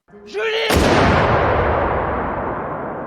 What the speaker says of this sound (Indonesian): Namun, di saat yang sama, polisi menembak Madi.